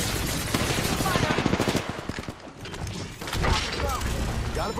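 Rapid bursts of automatic gunfire crackle in an Apex Legends match, a dense run of sharp shots with mechanical clatter and impacts, mixed with game sound effects and occasional voices.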